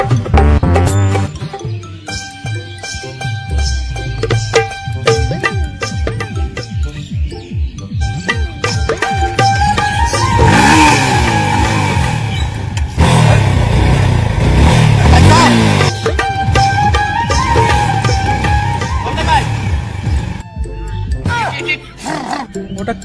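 A motorbike engine revs hard and roars near at hand, rising and falling in loud surges, with voices talking and shouting around it.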